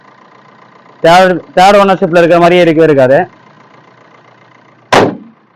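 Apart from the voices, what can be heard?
Maruti Swift VDI diesel car engine idling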